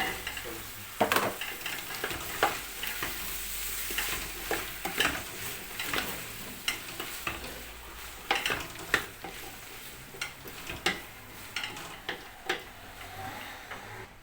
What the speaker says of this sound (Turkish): Şimdi de salçası kavrulsun.